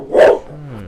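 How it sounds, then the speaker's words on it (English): A single loud, close dog bark, one short burst followed by a low lingering tail, with no talk over it. "Pause for the barking."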